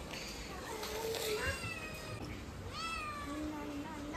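A pet cat meows several times, drawn-out rising and falling calls spread across a few seconds, close and clear over faint household background noise.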